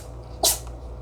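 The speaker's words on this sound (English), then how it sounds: "My kitty cat is sneezing." A pet cat's single short sneeze, a sharp close burst about midway through, set against a low steady indoor hum with no other sounds.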